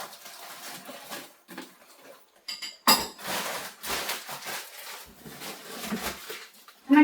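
Small and large plates and other dishes clink and clatter as they are picked up and set down in a Korean village house kitchen, with irregular close knocks separated by short quiet gaps and a louder rattle near the end.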